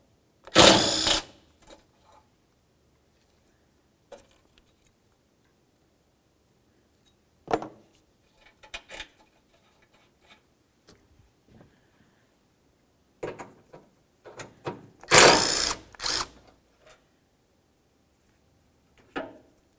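A ratchet fitted with a 10mm socket backs out the radiator bracket bolts on a 2000-2005 Buick LeSabre: two loud, close bursts of rapid clicking, with scattered single taps and clanks in the quiet between them and no talking.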